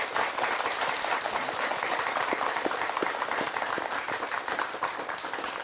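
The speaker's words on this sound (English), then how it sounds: "Please give him a round of applause." A studio audience on a Vietnamese talk show claps steadily for a departing guest, a dense, sustained round of applause that holds at an even level throughout with no voices heard.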